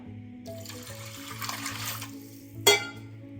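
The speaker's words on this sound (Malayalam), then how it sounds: "ആവശ്യത്തിനുള്ള വെള്ളം ഒഴിച്ചു കൊടുക്കാം" Water gushes steadily into a metal pressure cooker for a couple of seconds while cooking sambar, then a sharp metallic clank rings out over a low background hum.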